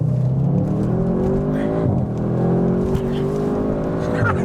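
A 2021 Audi RS6 fitted with a Milltek exhaust roars under load, heard from inside the car. The engine note holds steady and loud, with pitch shifts as the gears change and a brief dip near the midpoint.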